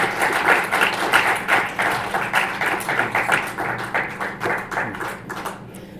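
A smaller audience at a history lecture gives a round of applause, with distinct, fairly close individual claps in an uneven rhythm that gradually thin out and fade toward the end.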